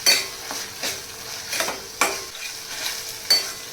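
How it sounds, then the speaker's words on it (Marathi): Masala paste is stirred and fried in oil in a pan for an egg masala gravy, giving a soft sizzle under repeated scraping strokes of a spoon, close by, with no talk. "आता मी या तेलामध्ये छान परतून घेणार आहे"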